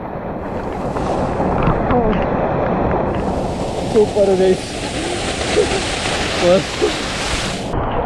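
Rushing river water along the Kedarnath trek in the Himalayas makes a steady, dense roar with some wind buffeting. Someone talks over it, close to the microphone.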